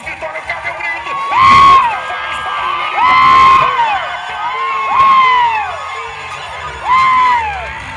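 Rodeo arena crowd at a bull-riding event shouting and cheering in repeated loud swells, several rising whoops and roars every couple of seconds over a constant murmur of voices.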